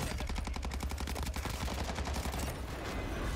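Rapid automatic gunfire in the video game Warzone, a dense stream of evenly spaced close shots that runs continuously and loudly.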